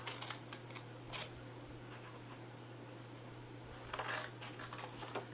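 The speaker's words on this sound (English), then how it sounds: "you are going to cut this corner here off" Scissors snip through the corner of a paper gift box in a few short, crisp cuts with quiet pauses between them, close but faint.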